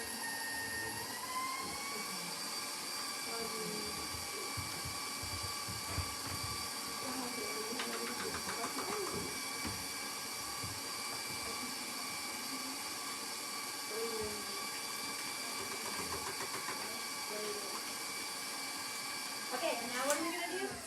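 An electric stand mixer whirs steadily at close range while ingredients are added a little at a time during a cooking class, with people talking over the motor's steady whine.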